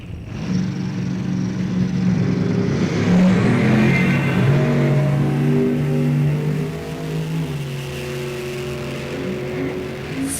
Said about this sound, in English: Supercharged big block.